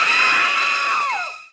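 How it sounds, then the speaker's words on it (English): A loud, sustained movie scream from Psycho, Beetlejuice, The Simpsons Halloween special or The Shining, held steady at high pitch and then sliding down as it fades out, heard alone with no talk. "Those were screams from, in order, Psycho, Beetlejuice, The Simpsons annual Halloween special, and The Shining."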